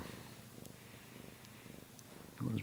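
Kittens purr in a low, rhythmic, pulsing way, quiet and close. A brief louder rustle comes near the end, and no one talks.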